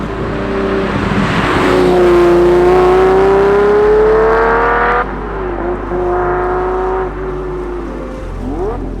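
A Lamborghini Diablo engine revs loudly and climbs in pitch through the gears, with a shift around the middle and another rising pull near the end, no voices.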